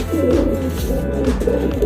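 A pet pigeon coos continuously close by, a soft rolling low murmur that repeats in short pulses.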